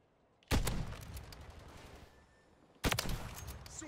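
Two loud, close gunshots in Call of Duty Modern Warfare 3 from an XRK Stalker one-shot rifle, each a sharp crack with a lingering tail, spaced a couple of seconds apart.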